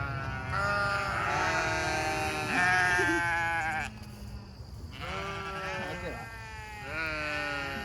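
Several sheep bleating in a farm field, loud overlapping wavering calls close by, with a brief pause midway before more bleats resume.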